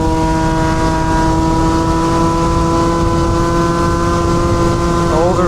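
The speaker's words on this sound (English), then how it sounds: "Over revving." A vehicle engine over-revving after a left turn and a hill climb, a loud steady high whine holding near without a break, with a rising pitch sweep at the very end; tagged as a Stage 6 overrange kit.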